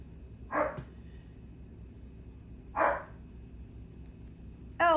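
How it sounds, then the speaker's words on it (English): A noisy dog barks three times, each bark sharp and fairly close, spaced a couple of seconds apart over a steady low background hum. "noisy dog."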